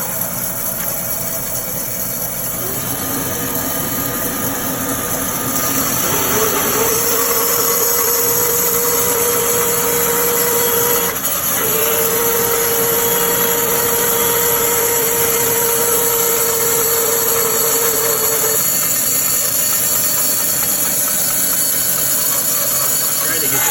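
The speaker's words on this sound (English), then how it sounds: "I'm going to turn the vacuum on in the background to try to collect as much of this dogwood dust as I" A shop vacuum runs as a steady loud whine, collecting dogwood dust while a Jet 20-inch bandsaw with a Laguna Resaw King blade cuts in a workshop, the blade's tone rising and shifting partway through.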